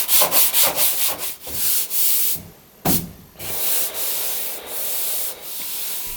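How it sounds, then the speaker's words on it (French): Hand-sanding the bonnet of a Maserati Biturbo 4.24v under restoration. Quick rhythmic rubbing strokes come first, then longer sweeping passes with short pauses, close and loud with no talking. "Je passe à la préparation du reste du capot avec un ponçage intégral"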